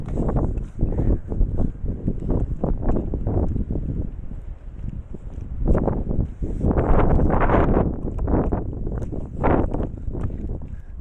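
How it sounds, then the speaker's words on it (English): Strong wind buffets the microphone outdoors in cold conditions, a continuous low roaring rumble that surges and eases in gusts throughout, with no talk over it. "It is also very windy"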